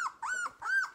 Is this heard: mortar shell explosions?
no